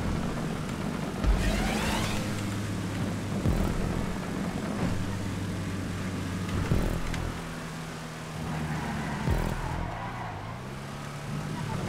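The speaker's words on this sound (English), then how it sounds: "You can hear the engine just catch up," A racing car's engine revs and surges during a Hotring stunt race in GTA 5, loud and continuous with rising and falling pitch sweeps, tyre and crash noises, and someone talking over the top.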